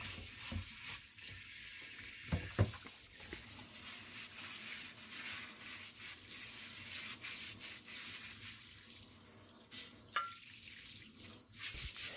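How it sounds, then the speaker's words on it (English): A cast iron waffle iron is scrubbed with dish soap under warm running tap water, giving a steady, faint rubbing and swishing sound with a couple of sharper knocks along the way. "I wash it with a little Dawn dish soap under warm water"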